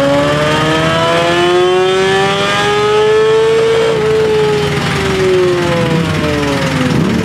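A racing motorbike built for the Isle of Man TT revs hard on a dyno, one loud, sustained run rising in pitch and then easing back down, close and continuous throughout.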